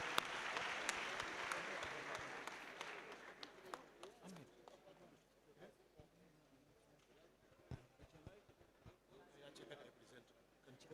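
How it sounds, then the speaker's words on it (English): An audience at a university pre-convocation lecture applauds the guest lecturer as she takes her seat. The clapping is strongest at the start and fades within a few seconds into quieter room noise with scattered knocks. "A round of applause for our guest lecturer as she takes her seat."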